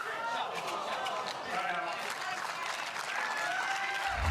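A crowd on Championship Court at a professional pickleball men's doubles gold medal match claps and cheers steadily throughout, a dense wash of applause with voices mixed in.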